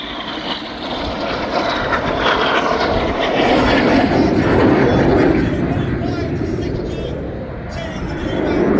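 RAF Red Arrows jets roar overhead during a flying display at the Midlands Air Festival, a loud, sustained broadband rush of engine noise that swells and shifts as the aircraft pass close, with a commentator talking over it.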